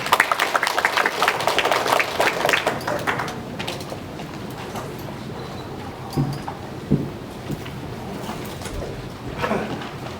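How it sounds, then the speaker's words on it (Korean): A crowd at a residents' meeting about design gives a burst of applause, with dense clapping loudest at the start and then fading into lighter scattered claps and room noise. "응원의 박수 부탁드리겠습니다"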